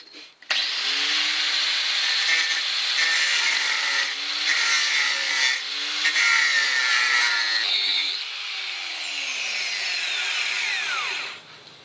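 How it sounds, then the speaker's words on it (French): A power saw cuts a slot into the thickness of a steel axe head, a loud continuous whining grind with pitch shifts as the blade bites and eases, then winding down at the end. "Maintenant je vais couper là dans l'épaisseur pour pouvoir y insérer le métal d'apport"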